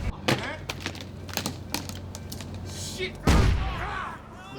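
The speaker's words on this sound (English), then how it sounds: "It's a concussion grenade, but when it's not a real one, it's been modified by our armorers and our special effects" A modified concussion grenade effect set off on a film set shows up as sharp cracks and pops, then a louder bang near the end, mixed with voices talking in the background.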